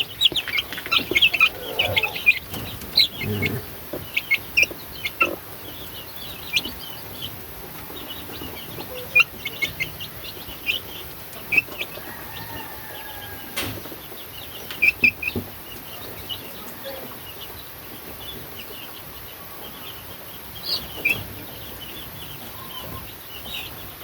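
A black three-month-old chick clucks in short, scattered bursts over a steady outdoor background, with other fowl calls mixed in and no talking.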